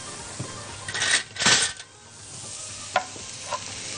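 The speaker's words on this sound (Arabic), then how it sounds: "هنشوح البصل شويه، وانا بشوحه هبتدي احط له شويه من البهارات" Onions sautéing in a pan for a minced-meat tagine, with soft sizzling and a couple of louder stirring scrapes of a utensil against the pan, then quieter frying with small clinks.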